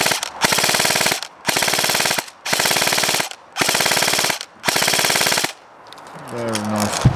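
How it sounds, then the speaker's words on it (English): A Noveske CQB airsoft rifle fires five long full-auto bursts, each a loud, rapid, buzzing rattle lasting about a second with short gaps between. A brief voice follows the last burst. "I'll just give you a little shot of full auto"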